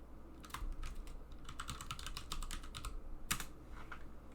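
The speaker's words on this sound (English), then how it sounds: "you could type this command" Keys clatter on a computer keyboard as a terminal command is typed on a Linux machine, a quick, steady run of close, soft clicks with a brief louder burst near the end.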